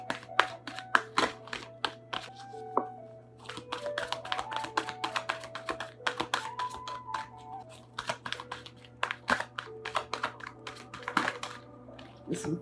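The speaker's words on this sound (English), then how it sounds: "I don't know why I'm having a hard time shuffling." Tarot cards being shuffled by hand, with dense, irregular crisp clicks and riffling flicks that run steadily and close up, and no one speaking over them.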